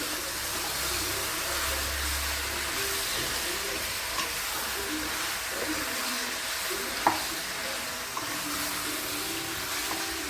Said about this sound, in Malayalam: നമുക്ക് ഈ എണ്ണയ്ക്കകത്ത് നന്നായി ഒന്ന് വഴറ്റിയെടുക്കണം ചിക്കന്